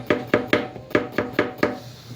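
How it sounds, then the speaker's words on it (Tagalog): Quick knife chops slicing food on a cutting board, seven sharp evenly spaced strikes in fast rhythm, close and clear with no talking. "Ako ni siyang hiwaong dali-dali kay aron maluto gini siya."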